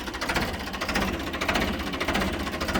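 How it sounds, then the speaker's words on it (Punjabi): An Indo Farm 4x4 tractor engine running, a loud, rough, rapid diesel chug with a steady knocking pulse, heard up close and continuous without voices. "ਟਰੈਕਟਰ ਦੀ ਆਵਾਜ਼ ਚੈੱਕ ਕਰੋ ਬਾਈ ਕਿਆ ਕਹਿੰਦੀ ਆ"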